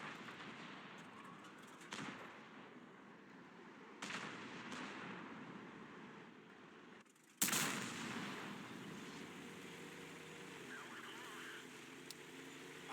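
A Conqueror Gun Carriage tank destroyer fires in a video game set in a ghost town. A single sharp, booming shot bursts out over a low engine rumble and fades into a lingering tail. A few softer thumps come earlier.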